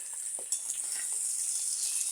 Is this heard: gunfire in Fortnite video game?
no